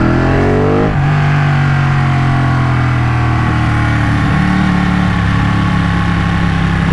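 A Ducati 1199 Panigale S twin-cylinder motorcycle runs through a Termignoni exhaust, a loud, close, deep idle with a brief blip near the start and then a steady, throbbing rumble.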